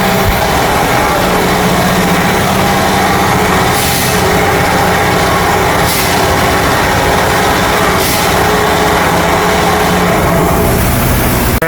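A BMW 316i F30 with the N13 engine running in a workshop: a loud, steady engine drone with an even hum throughout and faint periodic hiss bursts, close to the source, no talking.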